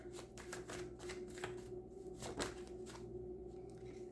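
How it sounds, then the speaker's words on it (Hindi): A tarot card is drawn and shuffled from a deck in a steady, close run of soft papery flicks and riffles, with a few sharper snaps and no voice. "तो निकालेंगे एक और कार्ड"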